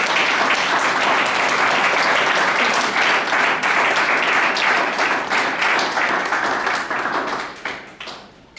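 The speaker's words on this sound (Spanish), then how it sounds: "Pues dale otra vez palmas a los que viven." Church congregation claps loudly in sustained applause, a dense wash of hands that holds strong before thinning into scattered claps and fading at the end.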